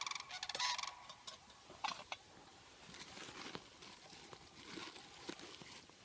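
Sandhill cranes call outdoors at a campsite, a series of faint, distant honking and rattling calls with soft ticking and clinking nearby.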